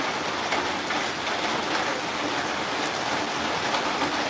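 Heavy rain pours down in a steady, dense hiss that stays loud and unbroken throughout, with no voices over it.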